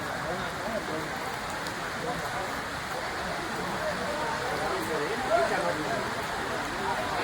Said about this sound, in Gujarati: ફૂલ વરસાદ આવ્યો પાછો